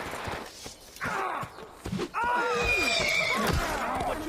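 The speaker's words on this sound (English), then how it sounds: "The fucking horse!" A horse neighs in the Assassin's Creed (2007) video game, letting out a long, loud, wavering whinny amid snorts and hoof clatter, with game ambience continuing steadily underneath and no speech.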